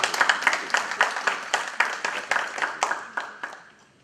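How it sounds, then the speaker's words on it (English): Conference audience applauding in a hall, a dense patter of hands with a steady rhythmic clap pulse that gradually tapers off and fades out near the end. "Let's give another big round of applause for us."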